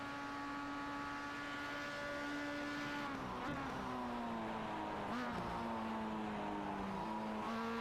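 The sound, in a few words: race car driving on track in racing sim game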